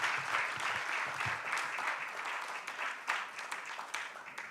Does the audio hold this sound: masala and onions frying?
no